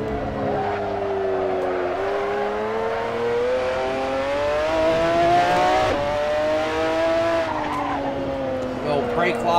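A McLaren F1 GTR race car at Laguna Seca in Assetto Corsa locks up its brakes, the engine's whining tone dropping and rising under a long squealing tire skid, with a sharp scrub near the middle and someone talking throughout.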